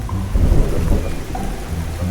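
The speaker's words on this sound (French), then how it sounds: "Pourquoi pleut-il maintenant?" Heavy rain falls steadily with a deep rumble of thunder rolling underneath, loud and close throughout, with no voices.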